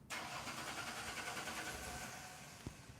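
A V6 Ford Mustang engine cranks and catches, then settles into a steady mid-pitched idle. It is heard close and fairly quiet, with a faint knock near the end and no talking.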